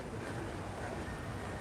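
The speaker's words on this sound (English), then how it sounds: "it's a little bit breezy at times on the microphone" Breezy wind buffeting an outdoor microphone on the seafront at Cala Millor, Mallorca, a steady low rumbling roar with faint surf-like hiss, continuous and close throughout.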